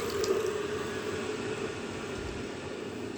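Boiled water poured from a kettle into dal in a pressure cooker makes a steady, soft splashing stream throughout, fairly quiet and close, with no talk.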